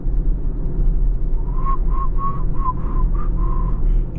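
A person whistles a short, wavering tune inside a moving 4x4 with an M5 Competition engine swap, over a steady low engine drone, several brief notes in a row.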